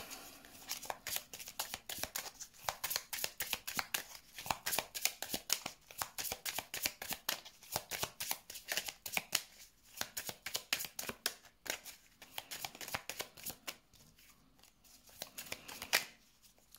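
Tarot cards are shuffled by hand for a reading, a close, crisp riffling with repeated quick bursts and brief pauses, steady and rhythmic with no talk.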